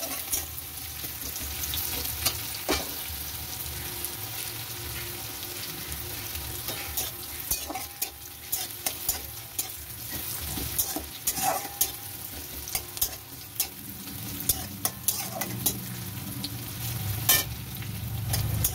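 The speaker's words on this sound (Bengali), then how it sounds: "পেঁয়াজটা একটু নরম নরম ভাজা হবে," Chopped onion fries gently in a pan with cumin, a steady close sizzle carrying frequent spatula scrapes and knocks against the pan throughout.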